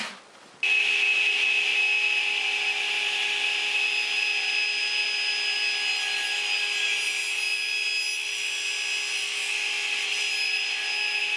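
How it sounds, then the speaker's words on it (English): A radial arm saw tipped to 45 degrees cuts miters in pine baseboard trim, giving a loud, steady whine with a strong tonal hum that runs nearly unbroken after an abrupt start. "I've gone ahead and tipped the radial arm saw to 45 degrees, and this will allow me to cut the miters for the baseboard trim."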